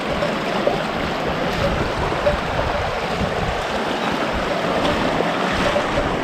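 Shallow river water rushing over stones where someone wades through the current, a steady, broad, close-up wash of flowing water with no talking.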